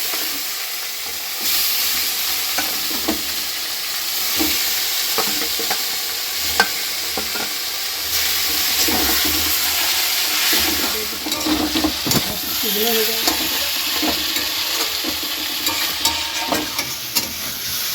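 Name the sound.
chicken frying in oil in a pan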